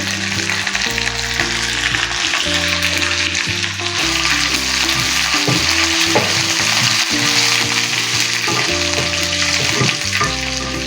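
Curry leaves and dried red chillies sizzle loudly in hot oil for a Malabar fish curry, a continuous close crackling fry with a dense spitting texture and no talk.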